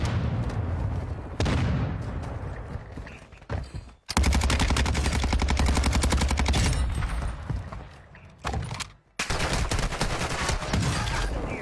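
Heavy automatic gunfire in an online shooter game, dense sustained bursts of close, loud shots filling most of the stretch, broken by a couple of short gaps.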